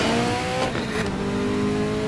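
An Alfa Romeo roars at steady high revs while racing in Need for Speed: Most Wanted, its engine loud and close with a brief surge in the middle, no voices.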